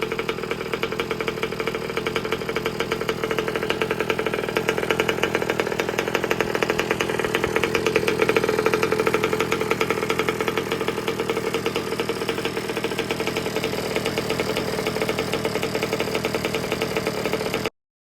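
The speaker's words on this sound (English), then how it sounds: "I've actually got the idle just wound a tiny bit up while I give it another heat cycle through here" A Baja buggy's new engine idles slightly high during a heat cycle, a steady buzzing mechanical drone with a fast rattling beat, close and unchanging for the whole stretch, with no voices.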